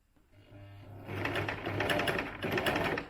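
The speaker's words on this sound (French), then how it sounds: "Et pour que la couture tienne, je fais des allers-retours sur l'élastique." A sewing machine stitches back and forth over elastic on a waistband, its rapid needle chatter building from a quiet start into a steady, close whirring run with a brief dip before resuming.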